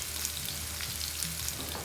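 Chicken pieces frying in oil for orange chicken, a constant loud crackling sizzle with small pops, close and uninterrupted.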